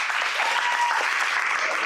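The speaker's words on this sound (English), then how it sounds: "Clap if you think it went well." Steady applause from an audience at a student's senior presentation, a full crowd clapping evenly throughout the short moment.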